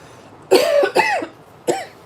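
Three loud, close coughs come from one person, two in quick succession and then a third after a short pause, with a raspy, throaty tone.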